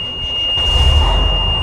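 A 2000 Pierce fire truck's diesel engine runs with a low, steady rumble that swells slightly, heard close inside the cab with a thin constant high whine above it, brief and without talk.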